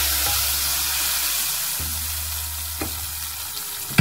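Fried tempering poured into Punjabi dal tadka sizzles loudly and steadily, a close hissing fry with a few faint clinks and stirring sounds and no talking.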